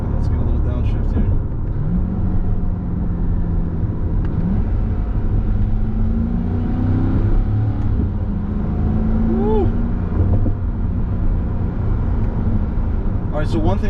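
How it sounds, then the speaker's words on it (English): A 2021 Chevy C8 Corvette rumbles on the road while driving and downshifting, with engine pitch shifting through a couple of blips under road noise, as someone talks over it. "Let's get a little downshift here."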